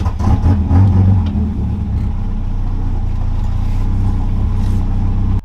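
A 400hp delivery van engine pulls away with a loud, deep, continuous drone heard from inside the vehicle. It surges at the start, then holds steady and powerful throughout with no talk.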